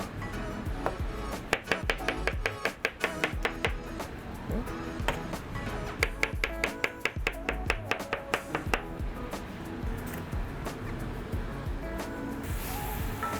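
A knife slices mushrooms on a cutting board in rapid bursts of crisp taps, heard close over the steady sizzle of onions sautéing in a pan while meatloaf gravy is prepared.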